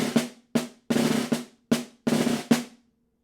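Snare drum plays measure 22 of a concert etude at mezzo forte with buzz rolls added, several sharp close strikes opening into short sustained buzzes, arranged in an uneven rhythmic phrase that ends with brief silence.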